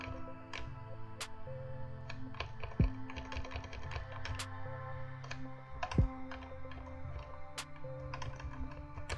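Typing on a computer keyboard while coding a Flutter PDF viewer: a steady run of close, crisp key clicks with irregular rhythm and a few heavier thumps, with no talk.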